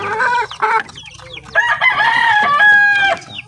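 Gamefowl roosters of Gilmore and Pumpkin Hatch lines crow loudly and close by, with long harmonic calls overlapping short clucks across the whole stretch and no talk.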